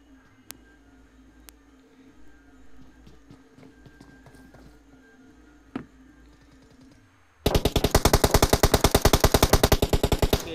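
Automatic gunfire in a Deadline video game gunfight: after a quiet stretch of scattered small clicks, loud rapid bursts of machine-gun fire start suddenly and run evenly to the end.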